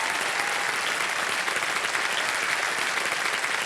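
Studio audience on a televised quiz show applauds a contestant who has just won, a dense, steady wash of clapping at full level throughout, with no voices over it.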